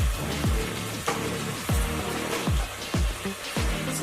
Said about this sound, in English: You want to stir it.